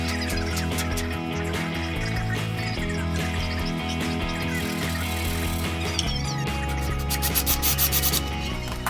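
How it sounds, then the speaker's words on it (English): A wooden wine rack piece is sanded to 220 grit with edges being rounded over, a continuous close, loud abrasive rubbing with a quick run of rhythmic back-and-forth strokes near the end, no voices. "Then I sand the entire piece to 220 grit, rounding over all of my edges"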